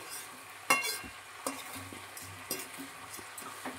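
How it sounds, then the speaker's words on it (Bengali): Biryani rice stirred and lightly fried in ghee and oil in a pan, with a soft continuous sizzle and intermittent scraping taps of a spoon against the pan at close range. "চালটা খানিকক্ষণ একটু নাড়াচাড়া করে ভাজা করে নেব ঘিটা তেলের সাথে"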